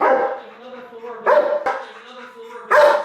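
A dog at an animal rescue barks in short, sharp bursts, two or three loud close yaps separated by pauses, with a whining tone between them.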